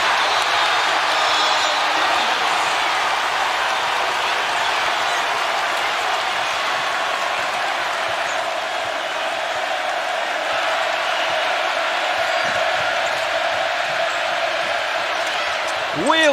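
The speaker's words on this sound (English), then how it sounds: "how about the noise in this crowd? Deafening." A basketball arena crowd at a Kentucky versus Texas A&M college game roars, a dense, sustained wash of cheering that stays loud throughout, with voices talking over it.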